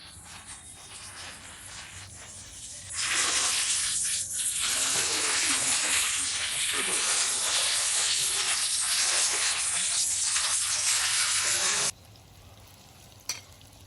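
Loitta fish pakora batter hitting hot oil in a Bengali kitchen, a loud broad sizzle that bursts in after a quiet start, holds steady for several seconds, then cuts off abruptly.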